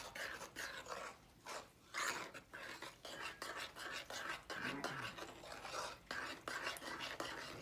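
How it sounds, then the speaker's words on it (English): Flour and yeast dough stirred by hand in a bowl, giving a steady run of soft scraping, rasping strokes in an uneven rhythm, close and fairly quiet with no talking. "Let's add another cup and start stirring."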